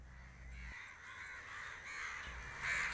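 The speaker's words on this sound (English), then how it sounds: "Dawn breaks over the farmland. The dead silhouettes of trees. Birds sing." Birds at dawn over open farmland, a crow cawing at a distance over steady background ambience and a low hum, with no voices.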